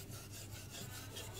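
A steel knife is drawn over a soft Morihei whetstone in steady repeated strokes, producing a close, continuous gritty rasp with a faint rhythmic swell on each pass and no voices.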